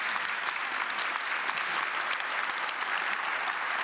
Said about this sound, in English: please give a warm applause for our panelists